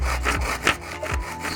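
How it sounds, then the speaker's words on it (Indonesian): A manual hand saw cuts through a small piece of wood, close and loud, with a few rhythmic rasping push and pull strokes and no voices. "Kita potong menggunakan gergaji manual, gergaji tangan."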